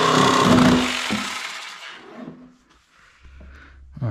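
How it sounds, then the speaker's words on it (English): Jigsaw with a fine blade cutting during a plumbing service call, with a loud buzzing saw run that fades out, followed by softer scraping and handling noises. "I have this jigsaw with a fine blade. I think this might cut it."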